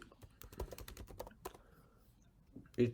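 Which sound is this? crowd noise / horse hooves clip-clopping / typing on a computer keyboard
typing on a computer keyboard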